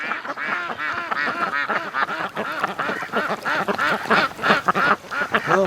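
A flock of farm-raised ducks quacks nearby in a dense, continuous chorus of overlapping calls.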